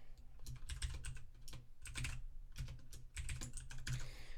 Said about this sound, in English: as I start typing, you'll notice it's getting rendered out